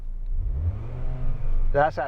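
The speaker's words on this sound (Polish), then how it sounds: "Give it a few revs." Skoda Kodiaq engine revving up in a low, swelling rumble that rises twice, close by, ending as a person starts talking.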